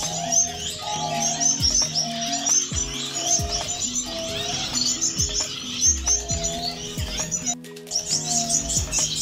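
Chirping from a young breeding pair of finches, an albino female and a carmine male, with dense, continuous high tweets and calls running throughout, fairly close and busy, with no talking.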